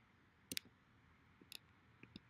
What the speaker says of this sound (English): So I have to press it 100 times just for this shit to work.